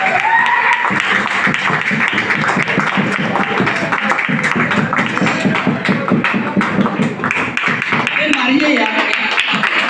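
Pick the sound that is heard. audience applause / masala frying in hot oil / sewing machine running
audience applause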